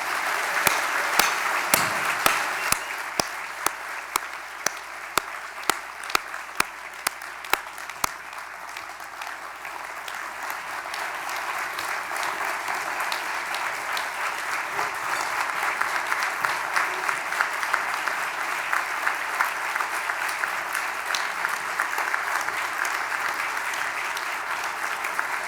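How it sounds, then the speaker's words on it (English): Sustained audience applause at a leadership luncheon award presentation as recipients come to the stage, sharper claps standing out at first, then a dense, even ovation continuing throughout. "And by your applause, please welcome Caretha and Ken to the stage."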